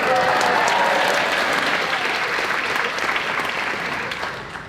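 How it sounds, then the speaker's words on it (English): A school audience claps steadily for several seconds, dense sustained applause that slowly fades toward the end, with faint voices mixed in. "This is so much easier when you clap."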